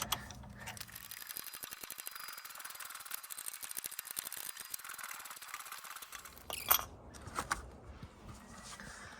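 Suspension bolts are tightened on a Land Rover Discovery 2 during a 2-inch lift install, with fast ratcheting clicks running steadily for several seconds, pausing, then resuming with a sharper clank, close and without talk.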